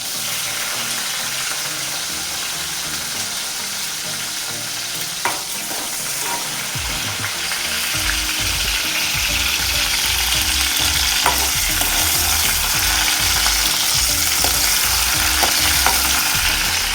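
Green chillies sizzle and crackle steadily in hot oil, rising into a louder, continuous frying hiss with occasional stirring clinks, no voices.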